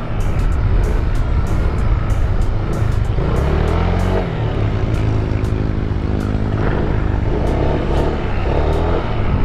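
A 2023 Honda Vario 160 scooter is ridden briskly, its engine drone loud and steady under heavy wind buffeting, with no talking.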